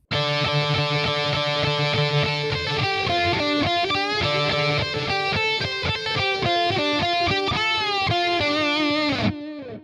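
A distorted electric guitar plays the next phrase of a song as a steady stream of picked notes and chord stabs, loud and up close, with no talking, ending abruptly just before ten seconds.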